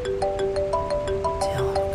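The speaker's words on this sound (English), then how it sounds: "Who the bloody hell's ringing me now?" A phone ringtone inside the Farming Simulator game plays a repeating electronic melody of steady, clear tones at an even level, with no talking.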